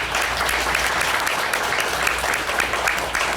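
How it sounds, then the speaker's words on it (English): Audience applause from a community meeting on overdose prevention sites, steady dense clapping filling the room from start to finish with no talking. "So you should give yourselves a round of applause."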